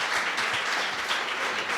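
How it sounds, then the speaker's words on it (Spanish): A church audience bursts into applause, a dense, steady wash of clapping that fills the whole moment at moderate distance. "un aplauso, por favor"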